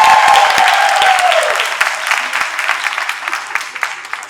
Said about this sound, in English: I sure hope they clap for me like that one